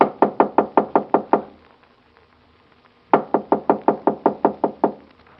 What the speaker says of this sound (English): I knocked on the playroom door.